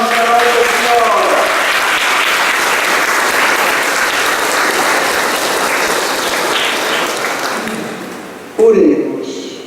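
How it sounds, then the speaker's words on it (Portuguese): A church congregation bursts into loud, sustained applause that fills the space and tapers off near the end, followed by a brief sharper sound. "Uma salva de palmas para Nossa Senhora!"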